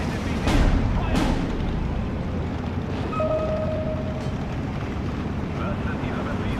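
Battle in the Steel Division 2 strategy game: two sharp, loud blasts of artillery and gunfire open the clip, followed by a continuous rumbling, windy battlefield din.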